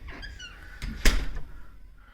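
A creaky front door swings on its hinges with a drawn-out squeaking creak, then lands with a sharp close knock and a short rattle before fading.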